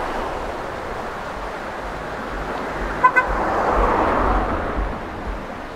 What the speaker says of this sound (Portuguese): Tá passando muito carro.